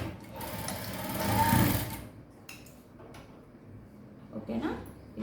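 A sewing machine stitches blouse fabric in a princess-cut blouse job, its close, loud mechanical whir building to a peak and then easing off, with a lighter burst of stitching near the end and a voice speaking over part of it.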